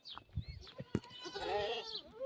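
Sheep bleating out in the open, a few drawn-out wavering calls with rustling and movement around them, fairly close and moderately loud.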